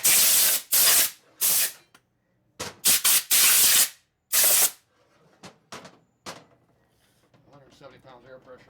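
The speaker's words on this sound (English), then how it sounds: "So we just hit it with our airline here." Compressed air line at 170 psi blasting grinding grit and sealer residue off Harley M8 lower-end engine parts: several loud, close hissing bursts of varying length, then softer short blips with quiet gaps.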